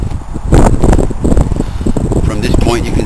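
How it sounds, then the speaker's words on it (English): Gusty wind buffeting a microphone halfway up Putnam Peak, rumbling and roaring loudly in bursts while someone talks over it. "it's kind of windy too, I hope you can hear me."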